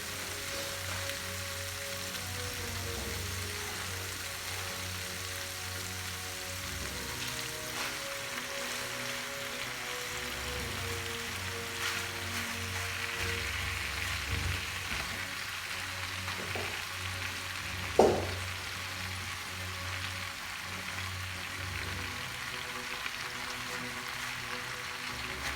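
Spinach and potatoes fry steadily in a pan for saag aloo, giving a continuous close sizzle with a faint low hum underneath and one sharp clink partway through.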